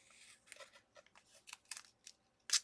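Small scissors snipping and trimming washi paper for a craft project, a series of crisp, irregular cuts and paper rustles close by, ending in one sharper snip, quiet with no talking.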